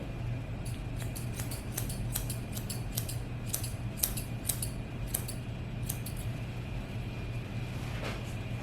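Scissors trimming a doodle dog's muzzle fur, a steady run of crisp close snips in quick irregular rhythm over a constant low hum, no talking.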